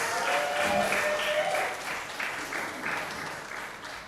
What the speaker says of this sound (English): Friends, can we applaud one more time for Ricardo